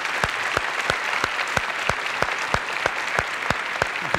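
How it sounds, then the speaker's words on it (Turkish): Studio audience clapping for Nuri on a 1997 Turkish TV variety show, sharp rhythmic claps in a steady even beat, loud and close with no talk over it. "Nuri abimizi alkışlıyoruz"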